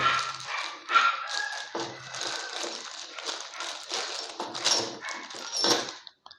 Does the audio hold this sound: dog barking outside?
yes